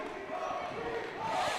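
A gym crowd at a boys' high school volleyball state championship regional match lets out a sustained, groaning roar of frustration, loud and continuous throughout with no single voice standing out.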